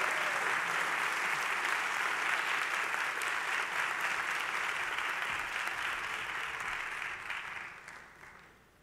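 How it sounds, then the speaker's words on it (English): Sustained applause for the Morehouse College Quartet after a choral performance at a forum, a dense wash of clapping from the audience that holds steady for several seconds before tapering off. "let's give the Morehouse College Quartet another round of applause under the direction of Dr. David Mara"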